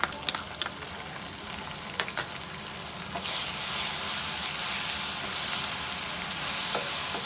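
Garlic and ginger sizzle and crackle as they fry with onions in a pan, a few sharp stirring clatters early on giving way to a steady, close hiss of frying oil.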